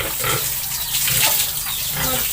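Water from a shower spray splashes steadily over a pet sow, a continuous broadband wash with brief louder bursts, close by and alone.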